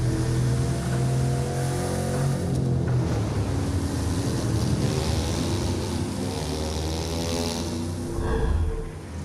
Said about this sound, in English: Tame, unpredictable waves on the open ocean, rapid waters, or narrow rivers.